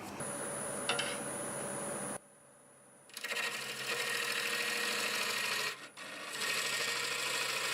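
Steady broadband scraping and rasping of a 1/2-inch bowl gouge cutting spinning old oak on a lathe, with a brief pause midway before the cutting resumes, close and continuous.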